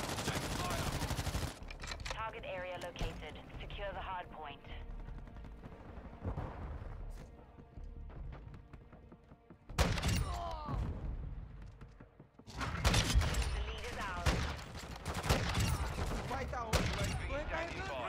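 Modern Warfare 2 gameplay with SP-R 208 sniper rifle shots and other battle gunfire, heard as sharp bursts separated by quieter stretches, with a voice speaking between them.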